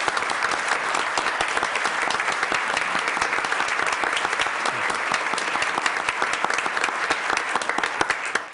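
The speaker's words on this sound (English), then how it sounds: "and applause is appropriate" Audience applause at a city government presentation honoring a fire and rescue department's accreditation, a sustained, even clatter of many hands clapping close by for the full stretch with no talking.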